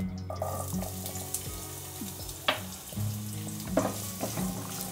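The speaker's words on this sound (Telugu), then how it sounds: "గోల్డెన్ కలర్ వచ్చే వరకు ఫ్రై చేసుకుందాము" Onions sizzling in oil with cardamom, cinnamon, cloves and peppercorns, stirred now and then with a spoon that clinks and scrapes against the pan; close, with a steady hiss and a few sharp knocks.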